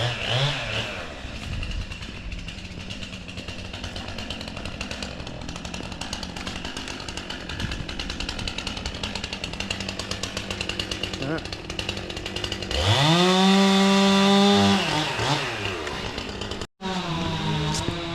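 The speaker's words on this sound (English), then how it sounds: "So we've got to grind that stump." A stump grinder chewing into a windblown tree stump after a storm, its engine roaring loudly and continuously with gritty grinding, then revving up near the end before a brief cut-out.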